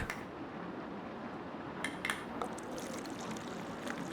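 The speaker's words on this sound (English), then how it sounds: "mind if I fix myself up a glass of water as well" Water is poured into a glass as a steady, soft liquid trickle, with light clinks of glass and dishware near the end, close-up and quiet in an intimate indoor setting.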